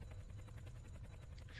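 A helicopter in a flight video game whirs with a steady, loud, continuous rotor drone and a fast pulsing chop, heard alone.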